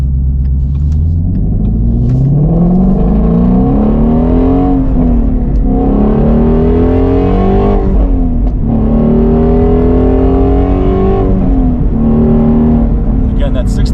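A Shelby GT350 or GT500 engine revs hard and loud to 6,000 RPM, its pitch climbing and falling repeatedly in long sweeping pulls, close and continuous.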